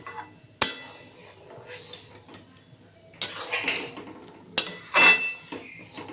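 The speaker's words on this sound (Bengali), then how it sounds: "নাড়াচাড়া করে নিচ্ছি" Sour hog plum curry is stirred in a pan, with sharp metallic knocks and scraping bursts from a spoon against the pan between quiet gaps, close and fairly loud.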